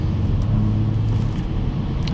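BMW 440i driving on a wet road in the rain, a steady low rumble of engine and road noise with a constant wash of tyre spray heard from inside the car.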